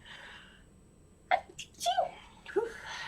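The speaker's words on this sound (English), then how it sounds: "I'm about to sneeze." A single close sneeze with a sharp burst, followed by a couple of short breathy sniffs and vocal sounds in an otherwise quiet room.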